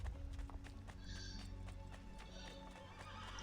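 Horse hooves clip-clop at a steady walking pace in the Assassin's Creed 2 video game, joined by a whinny, with the game's low ambient hum underneath and no talking.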